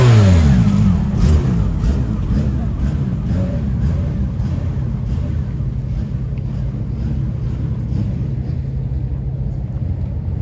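A BMW M5 in a Paris street revs hard and accelerates away, its loud engine roar rising in pitch at first and then holding a steady drone, with wind buffeting the microphone.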